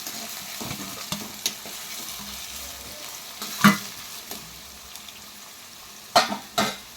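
Onions and green chillies fry in a pan with a quiet, steady sizzle, broken by a few sharp clinks and scrapes of stirring.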